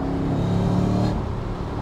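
Supercharged Mercedes-McLaren SLR accelerating, a loud, steady engine roar with a rising whine that eases off near the end.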